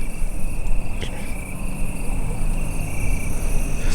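A grasshopper chirps at night outdoors, a steady high trill running through the whole stretch over loud low rumble and handling noise, with no voices.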